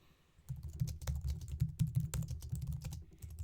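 Fingers type a message on a computer keyboard, a quick, steady patter of close key clicks that starts after a brief pause and continues to the end.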